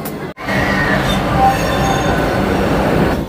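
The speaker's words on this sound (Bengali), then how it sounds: "আমাদের ট্রেন ছেড়ে দিল খড়গপুর জংশন থেকে।" The Vande Bharat Express pulling out of Kharagpur Junction, heard from inside, a steady loud rumble of wheels and carriage noise with faint squeal, continuous after a brief dip at the start.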